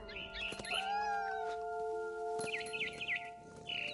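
A cat's drawn-out meow wails over steady synthetic tones, followed by quick chirping bird calls toward the end, in the video game What Remains of Edith Finch.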